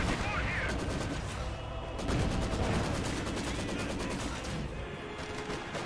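An MG-34 machine gun firing in Company of Heroes 2, heard as long, rapid, evenly spaced bursts of rattling shots within a loud, continuous battle soundscape of other gunfire and explosions.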